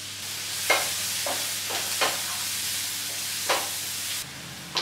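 Onions frying in butter in a pan give a steady close sizzle with a few sharp scrapes of stirring spaced through it, and no voices.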